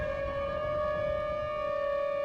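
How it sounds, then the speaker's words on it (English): Steady, sustained wail of tornado sirens in modded Minecraft, a constant tone with strong harmonics holding level throughout over a low rumbling background, with no talking. "Hopefully those sirens won't last too much longer."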